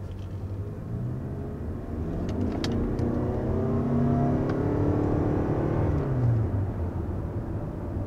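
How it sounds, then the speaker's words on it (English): A 2021 Toyota Venza Limited hybrid SUV pulls away from a stop, its engine and road noise swelling into a steady, rising whir and rumble that holds close and loud, then eases slightly near the end. "So here we are taking off with this Toyota Venza."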